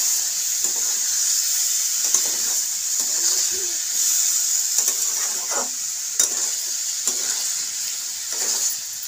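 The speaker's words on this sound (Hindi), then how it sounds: "इधर हमारा सब्जी भुजा गया है, इसमें मसाला डाल देते हैं और इसको अच्छे से मिला लेते हैं।" Spiced vegetables frying in a pan and being stirred with a spoon, giving a steady sizzle with repeated scraping strokes close by and no talk.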